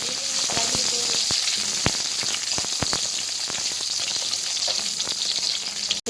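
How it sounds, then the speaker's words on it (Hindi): Green chillies fry in hot oil in a home kitchen, giving a steady, close sizzle with scattered sharp pops and crackles. The sizzle holds throughout and stops abruptly at the very end. "तेल गरम हो जाए 4 मिनट लगेंगे फ्राई होने।"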